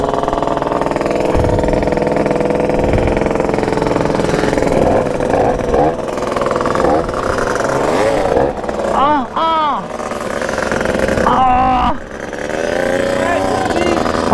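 A Motobécane Mobylette moped engine runs continuously, steady and fairly loud, with rising revs as it accelerates on a country ride near Illats, while voices talk over it.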